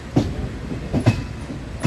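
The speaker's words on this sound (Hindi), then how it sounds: "ये देखिए अपनी ट्रेन चल पड़ी है धीरे धीरे" Passenger train rolling slowly along the rails, with rhythmic clickety-clack wheel beats over rail joints repeating every second or so beneath a steady rumble, close and fairly loud, no talk.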